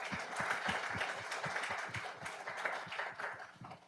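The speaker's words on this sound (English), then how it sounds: "So I would like to recognize and give them a round of applause as well." An audience applauds faculty at an engineering ring ceremony: steady, dense clapping from a crowd that holds for the whole stretch and eases slightly near the end.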